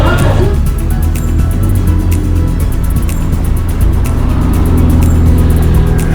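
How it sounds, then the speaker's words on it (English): A Ferrari sports car drives by on the road, its engine rising and fading beneath steady loud road and wind rumble heard from a moving motorcycle. "I thought it was a Corvette, but it is not. It is a Ferrari, and that's a beauty."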